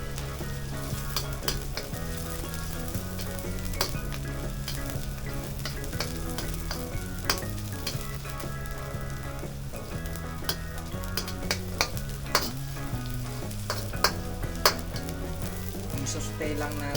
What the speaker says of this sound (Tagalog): I-saute lang natin hanggang maging golden brown lang o lumabas yung kanilang aroma.